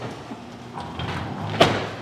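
A residential garage door rumbles down during a home inspection test, a low sliding rattle that builds gradually and ends in a sharp knock as it meets the floor, with no voices.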